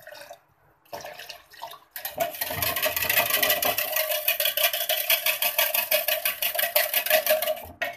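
Water pours steadily into a container of salted lassi for about six seconds, a close, loud, splashing rush that follows a few soft handling sounds.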